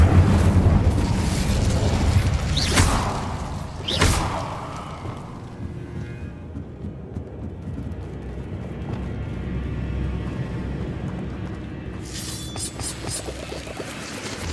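Incendio fire spell cast in Hogwarts Legacy, heard as a loud rushing burst near the start, with a second sharp whoosh around four seconds, then a lower rumbling roar that trails off under game ambience.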